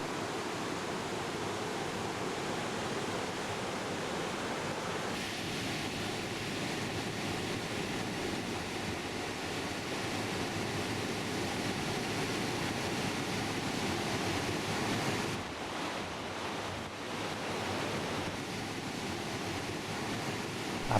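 Rough sea surf rolls onto a beach in a steady, broad wash of breaking waves, fairly close, with shifting surges and some wind buffeting and no voices.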